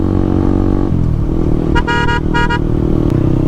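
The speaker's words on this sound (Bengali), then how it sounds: "একজাস্টের সাউন্ডটা আর শুনতে ভালো লাগে না" A loud motorcycle exhaust roars steadily up close, broken by a pair of short horn blasts midway and a brief toot near the end.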